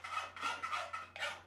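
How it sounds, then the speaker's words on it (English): A bastard file rasps across a steel machete blade blank in long, regular push strokes, about four loud, close grinding passes separated by short pauses, with a low steady hum beneath. "I'm going to use one of mankind's great tools, the bastard file, to file this more or less to its shape."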